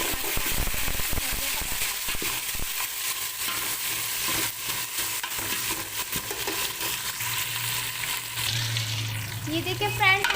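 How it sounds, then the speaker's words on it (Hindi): Garam masala sizzles and fries steadily in a pot for chana deghi pulao, with a stirring spoon scraping now and then and a low hum underneath, close and continuous throughout. "हमने जो गरम मसाला डाला था हमारा अच्छे तरीके से भुन चुका है"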